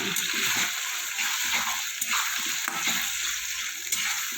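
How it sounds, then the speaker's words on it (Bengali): Chopped tomatoes hit hot oil in a frying pan for chana paneer masala, giving a close, steady hissing sizzle broken by periodic scraping stirs of a spatula, with no voices. "এবার আমি দেবো কুচনো টমেটো।"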